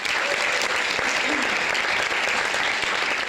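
Sustained applause from an audience at a music event, steady and dense throughout with no break, fairly loud and close.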